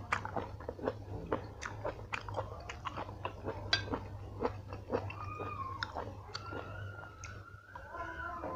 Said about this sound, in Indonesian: Ini teksturnya agak keras, jadi kalau dimakan cekruk-cekruk gitu.